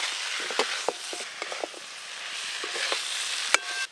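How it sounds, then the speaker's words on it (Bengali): Dried salted hilsa fish, potato and taro frying with spices in a pan, giving a steady close sizzle broken by a few sharp scraping clicks from stirring, with no talk. "মাছ আলু আর কচু মশলার সঙ্গে এরকম ভালোভাবে কষে নেবেন আপনারাও"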